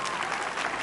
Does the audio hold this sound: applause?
yes